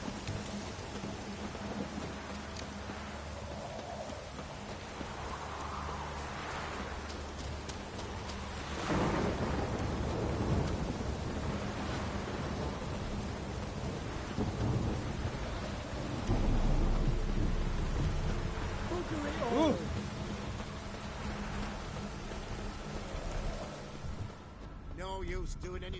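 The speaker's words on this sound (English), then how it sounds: "No use doing any work in this rain." Steady rain pours throughout in the video game The Witcher 3, while deep thunder rolls swell and fade, loudest around the middle.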